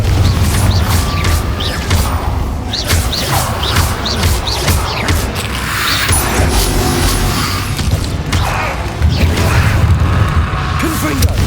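A Confringo fire blast spell is cast in the Hogwarts Legacy video game amid loud, continuous combat. Crackling whooshes and heavy booms repeat in quick succession over clanking mechanisms and crashes.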